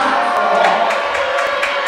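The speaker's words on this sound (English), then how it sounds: "the New Paltz crowd isn't happy about it" Dense crowd noise fills a basketball gym as New Paltz fans react with displeasure, a steady broad roar of murmuring and scattered shouts at constant loudness throughout.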